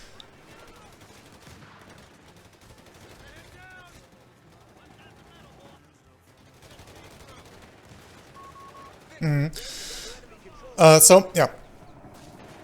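Two anti-tank guns fire in Company of Heroes 3, playing US forces against a StuG: two sharp, loud gunfire bursts near the end, after a long stretch of quiet talk.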